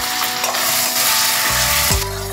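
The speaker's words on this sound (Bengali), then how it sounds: "ভালো করে রসুন বাটাটা দিয়ে কষিয়ে নিচ্ছি।" Tomato frying with garlic paste in a pan while cooking a vetki fish dish, a loud continuous sizzle with stirring scrapes, plus a brief tonal clink near the end.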